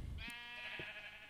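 A single sheep bleats in the Minecraft video game, a clear, wavering bleat lasting about a second with faint background clicks and no talk.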